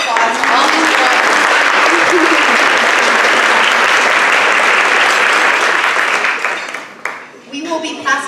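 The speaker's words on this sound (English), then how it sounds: "let's give a little bit of a warm welcome and a round of applause" A crowd claps loudly and steadily at a university tech event welcoming a speaker. The sustained applause fills the space, then thins near the end as a few voices come through.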